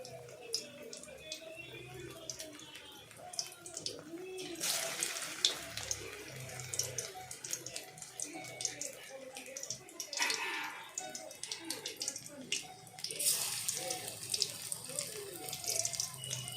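Small Bengali shrimp fritters (kucho chingri bora) frying in hot oil in a wok, a steady crackling sizzle with bursts of brighter spattering as pieces are dropped in, close and moderately loud.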